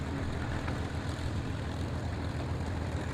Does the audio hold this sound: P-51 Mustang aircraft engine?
yes